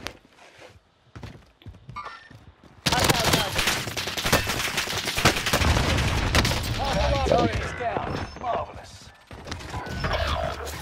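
Bursts of automatic gunfire in the battle-royale shooter Warzone during a Plunder match, loud, dense, rapid volleys that start abruptly and carry on with brief gaps, with mechanical clicks and thuds mixed in.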